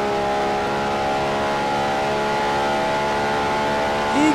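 A modified DeLorean, tuned to 5000 horsepower and carrying a fault, drones steadily as it accelerates in a realistic racing sim, its engine tone holding loud and sustained, with a brief higher whine rising near the end.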